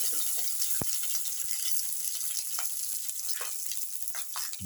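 Red chillies and whole cloves frying in hot oil in a pan, a steady close sizzle with scattered pops and crackles throughout, no voices.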